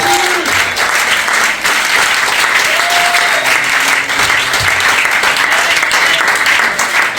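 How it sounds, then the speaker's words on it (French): A church congregation applauds loudly and continuously with dense, steady clapping throughout. A voice is briefly heard beneath the applause. "Acclame très fort le Seigneur."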